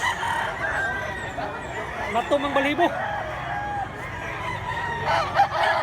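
A father's handsome rooster, over a year old and about 2.5 kilos, crows once, loud and near, in Mantalungon, Barili, Cebu, while men chat continuously around it.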